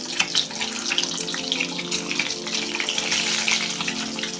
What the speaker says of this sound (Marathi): ह्या तेलामध्ये जे आपण अंडा पनीर केलेला आहे ते पनीर टाकणार आहे तळून घ्यायचं